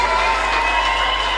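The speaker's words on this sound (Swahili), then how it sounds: "Mpigie baba makofi." A crowd at a political rally of Kenya's ODM party in Mombasa applauds and cheers in a dense, continuous wash of clapping.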